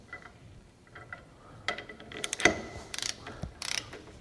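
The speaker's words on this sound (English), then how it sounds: "Then I'll take my torque wrench, which is set to 100 foot-pounds," Torque wrench set to 100 foot-pounds ratcheting on a high-pressure rail fitting of a 6.0L Powerstroke diesel held in a vise, heard as a quiet scatter of sharp clicks and short ratchet bursts, busier in the second half.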